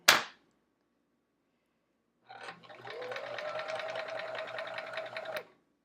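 A sewing machine stitching fabric under its presser foot runs in a steady whirring burst of about three seconds, close and fairly quiet, following a sharp snap at the start and a brief pause.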